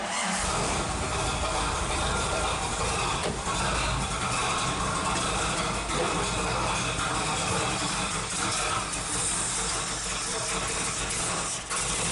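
A Jeep engine, starting up rough and smoky, runs loud and steady throughout with a constant rumbling drone and mechanical rattle close by, without any speech.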